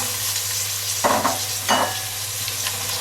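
Crayfish searing in a hot pan with soy sauce and seafood aromatics make a constant close hiss, broken by a couple of louder scraping bursts from stirring near the middle.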